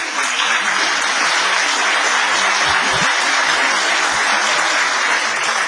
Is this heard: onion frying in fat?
no